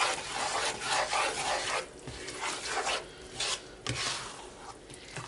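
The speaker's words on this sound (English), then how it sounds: "Stir this up." A taco casserole mixture with enchilada sauce and a pinch of cayenne being stirred in a pot, a steady close scraping and rasping that comes in uneven strokes with brief pauses.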